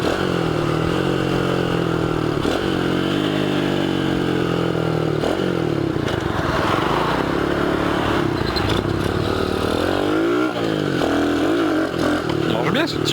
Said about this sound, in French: Il marche bien ce petit moteur.